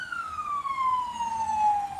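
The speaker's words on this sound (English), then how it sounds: "the ambulance is already on the way in case he kills himself" A single wailing siren tone from an ambulance glides slowly downward at moderate distance, steady and clear over faint background noise, with no talking.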